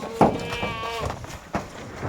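Kathiawadi goats bleat at a livestock market, one wavering bleat standing out near the start amid busy crowd noise and murmuring voices.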